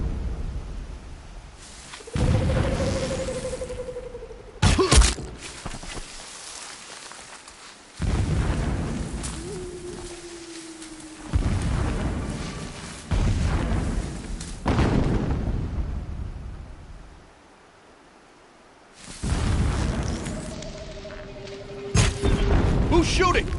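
Heavy booming shots and blasts go off in a video game, loud broadband bursts that recur every few seconds with rumbling tails. Voices talk between and over the blasts.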